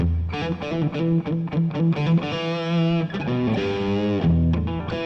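Distorted electric guitar through a Marshall amp playing chugging chords and sustained notes in a short, tight room reverb, loud and close, with no talking.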